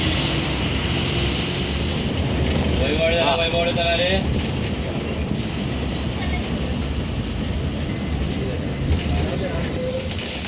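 A long-distance passenger train on the Borivali–Kankavli route pulls away, a steady broad rumble of wheels and engine holding at close range throughout, with a brief tonal squeal partway through.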